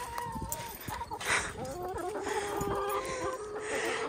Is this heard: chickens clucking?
yes